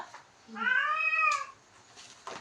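Near and loud, a cat lets out a single drawn-out meow that rises and falls, with faint outdoor background before and after.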